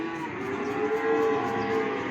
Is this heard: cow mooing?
yes